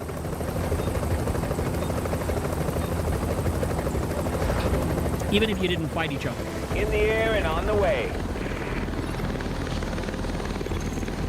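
An extraction helicopter in The Division makes a steady, loud rotor and engine roar throughout, with a voice talking over it in the middle.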